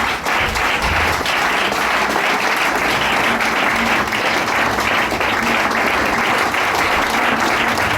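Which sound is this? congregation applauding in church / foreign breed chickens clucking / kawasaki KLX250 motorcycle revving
congregation applauding in church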